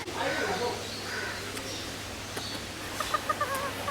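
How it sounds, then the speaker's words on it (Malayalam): Small Serama chicken, a very short bantam breed, gives a few soft clucks near the end, under steady background noise and people talking. "സെറാമ ചിക്കൻ നല്ല ചെറിയ കുഞ്ഞ് ഷോർട്ടസ്റ്റ് ചിക്കനാണ്."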